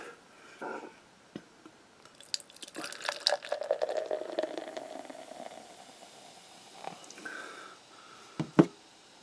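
Coors beer poured into a glass, a wet splashing and fizzing stream building around the middle of the pour, with a few sharp clinks and drips at the end; close and moderately quiet.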